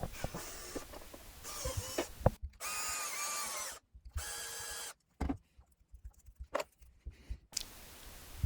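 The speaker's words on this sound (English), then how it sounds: "I'm using a Tamiya hobby drill, which comes as a kit that you build" A small Tamiya hobby drill bores a hole in a Lego piece in short whirring bursts, the motor starting and stopping repeatedly with clicks and quiet pauses between runs, close up.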